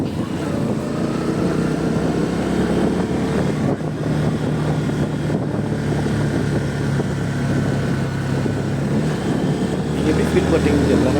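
A vehicle drives a winding mountain road near Kotagiri, and its engine gives a steady, loud drone mixed with road and wind rumble that runs unbroken through the whole stretch.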